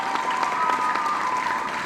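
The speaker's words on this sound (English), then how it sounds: "And the room broke out in applause." A room full of people at a foundation convention breaks into applause, a steady, full crowd clapping sustained evenly throughout.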